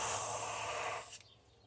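An airbrush sprays paint onto a thin crankbait in a close, steady hiss that runs for about a second before cutting off abruptly, leaving near silence.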